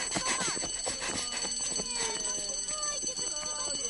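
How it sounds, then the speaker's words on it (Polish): Several electronic mobile phone ringtones chirp and warble at once in a busy, overlapping jumble in a cartoon scene, with voices heard among them. "Dzwonią telefony, a nikt się nie odzywa."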